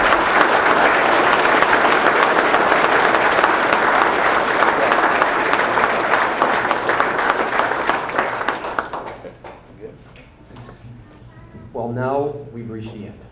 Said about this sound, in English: One more round of applause for him